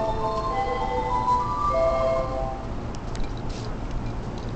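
Departure melody on a Kawasaki station platform, a bright electronic chime tune sounding for about two seconds over steady platform hum, then fading into background station noise.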